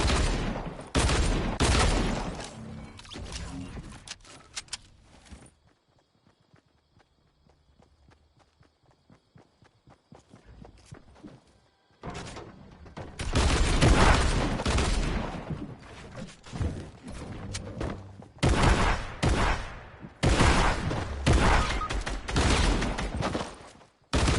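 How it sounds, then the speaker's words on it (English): A video game firefight with shotgun blasts, running footsteps and bursts of gunfire, loud and dense, broken by a quieter stretch in the middle before the shooting resumes. "That was my shotgun."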